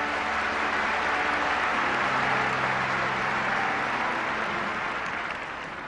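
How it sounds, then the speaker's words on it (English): A large audience at a 1975 Las Vegas gathering breaks into loud, sustained applause that fills the whole stretch evenly, with no talk over it. "Give him a great big applause."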